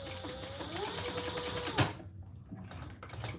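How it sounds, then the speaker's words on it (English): Sewing machine basting D-rings together onto webbing, a fast rattling stitch run for under two seconds, then a sharp clunk as it stops, followed by quieter handling sounds. "So I'm just basting my D-rings together."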